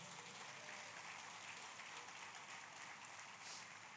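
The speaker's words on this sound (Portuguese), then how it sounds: "Pode dar um aplauso para o Senhor Jesus?" A church congregation applauds at the close of a prayer, a steady wash of many hands clapping that holds at an even, moderate level and stays quite faint and distant, with no voices rising above it.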